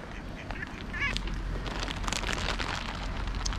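Silver gulls and other gulls squabble over food, giving short harsh squawking calls over a constant rushing background, fairly close, with no speech.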